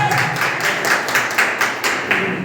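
A small group claps to welcome a doctor, a close, rhythmic run of hand claps at about four beats per second, evenly paced and moderately loud.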